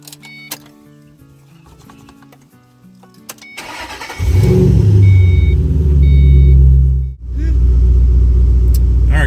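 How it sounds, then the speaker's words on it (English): A 2005 Ford Mustang GT: soft electronic chimes and clicks, then the engine cranks and fires into a loud, deep, steady idle rumble. There is a brief dip partway through before the idle continues close up. "let's go ahead and start the car up"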